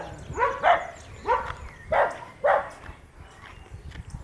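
Dogs bark from a plot of land between apartment buildings, four sharp barks in an uneven rhythm at moderate distance, followed by quieter background noise.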